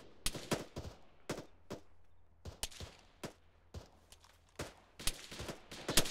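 Gunfire in the military shooter game Arma: a rapid string of sharp, loud reports in irregular bursts and single shots, some nearer and punchier, others lighter, with no talking over them.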